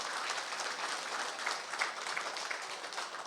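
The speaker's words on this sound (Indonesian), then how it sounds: "Tepuk tangan untuk kedua pembicara kita." An audience at an Indonesian youth community energy talk on subsidized fuel applauds the two speakers, a steady dense wash of clapping throughout at moderate distance with no talk over it.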